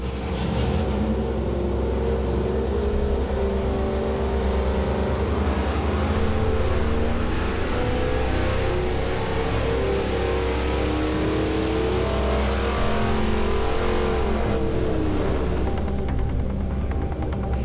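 A Crosstown high-performance engine on a test run roars continuously and loudly, holding a dense, steady drone with slight rises in pitch before easing near the end.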